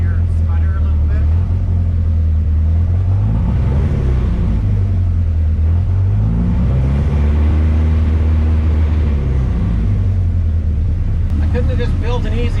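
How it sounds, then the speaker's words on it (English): A home-built project car engine with standalone fuel injection rumbles and revs up and down, its steady low drone wavering unevenly between revs, close and loud under ongoing talk. "when you rev it, I hear it sputter a little bit"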